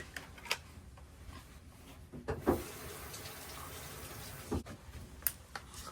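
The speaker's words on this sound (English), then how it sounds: "you may also want to wash this after you clean the filter, because you also get sand here" Running water rinses an LG washing machine's drain pump filter, a faint, steady hiss of flow with a few brief splashes and clicks of handling, and no speech.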